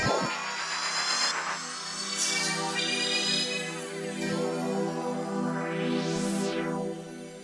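Layered keyboard synth introduction for a song, sustained chords with sweeping effects and a rising then falling filter sweep near the end, loud and continuous with no talking.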